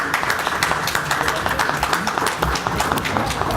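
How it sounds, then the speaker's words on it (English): Small audience at a franchising seminar clapping for panelists, a loose, fairly close patter of individual claps with distinct hits, lasting a few seconds. "I think they deserve a round of applause."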